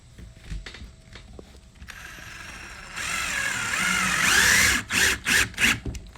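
A screw is driven into a skeleton stand with a powered driver, a whirring mechanical buzz rising up close, then several short bursts of whirring ending the run, with small clicks and handling noises before.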